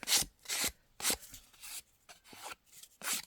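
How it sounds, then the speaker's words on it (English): A nail file rubs back and forth against the edges of a handmade paper card, producing quick, rhythmic rasping strokes, about eight of them, close and fairly quiet, with no voices. "grab yourself a nail file and just very gently rub them away"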